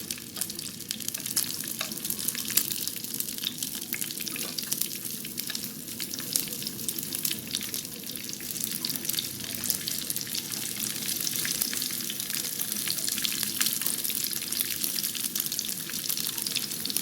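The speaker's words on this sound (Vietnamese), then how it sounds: "thì các bạn cho cái phần đùi gà mình vô mình chiên nha" Vegetarian mock chicken drumsticks frying in oil over low heat, a steady soft sizzle and crackle from the pan that runs throughout without voices.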